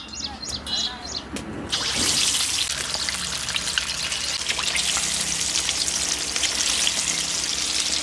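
Masala-coated chicken 65 dropped into hot refined oil in an iron kadai, bursting into a loud, steady bubbling sizzle after a few seconds of quieter clatter, the frying continuing close and dense.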